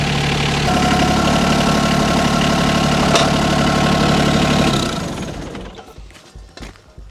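A tractor engine idles steadily and loudly for about five seconds, then winds down and fades into quieter, uneven rumbling as it stops.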